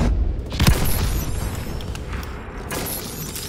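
Missile strike explosions in a Call of Duty game. A heavy boom with shattering debris comes first, followed by rumbling blasts and a chaotic roar that fades slightly over a few seconds.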